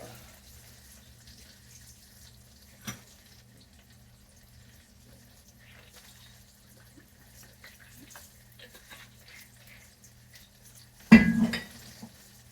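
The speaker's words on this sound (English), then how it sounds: "You know what else I'm going to add? Is a little bit of cooking wine" Cooking wine goes into a pan of frying kale wrap filling. Faint kitchen clatter and a single clink come first, then a sudden loud splash and hiss that fades quickly.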